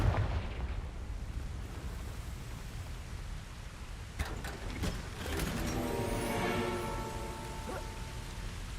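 Confringo blasting spell in Hogwarts Legacy, a sharp cracking burst followed by a rumbling explosion with clattering, mechanical debris and a ringing tail.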